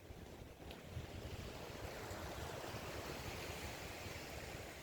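Strong ocean waves during a typhoon crash in a continuous roaring wash of surf, with wind buffeting the microphone, loud and unbroken with no talking.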